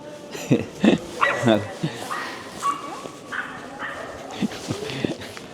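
Dogs on a street in the Netherlands give a run of short yips and whimpering barks, close by, in uneven bursts with someone talking over them.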